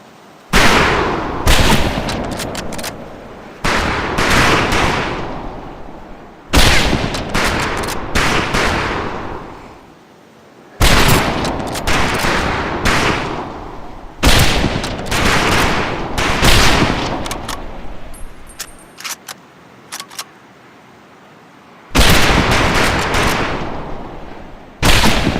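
Volleys of rifle fire crack out across a firing range in Medal of Honor Pacific Assault, loud bursts of rapid shots separated by brief pauses, repeating in ragged rounds for the whole stretch.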